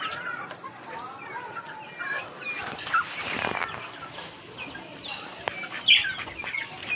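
A pet rooster clucks in a home courtyard before rain, with soft, intermittent clucks and squawks at moderate distance, low and scattered over faint background noise.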